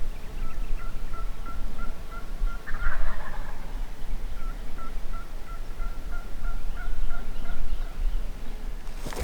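A wild turkey hen calls repeatedly in a steady series of short clucking notes, fairly distant, with a brief louder burst in the middle over outdoor background noise.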